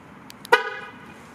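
An Infiniti car horn gives a single short honk as the car locks by key fob, a brief loud toot that fades into quiet background.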